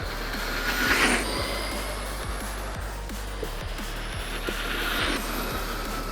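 A 4S-powered RC car runs at full throttle on a slippery surface, its steady motor whine and drivetrain buzz holding fairly loud and continuous, with brief surges and faint rhythmic ticks throughout.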